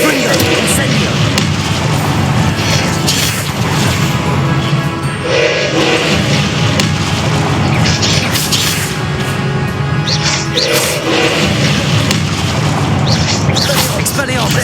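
A Confringo fire spell explodes in the Hogwarts Legacy video game amid a loud, continuous battle mix of booms, crashes and bursts, with voices speaking throughout.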